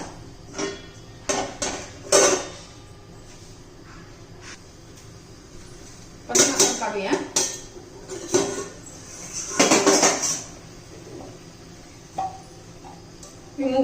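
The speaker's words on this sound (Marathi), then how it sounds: "आता झाकण ठेवूया आणि छान असा शिजून देऊया त्याला" A lid is set onto a pan of cooking ridge gourd in a home kitchen, giving several close metallic clanks and rattles in short bursts, separated by quieter stretches.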